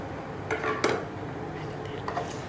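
A spoon clinks and scrapes in a pot while rotla vegetable curry with turmeric and salt is stirred, a few soft metallic knocks near the middle and end over quiet kitchen background, no voices.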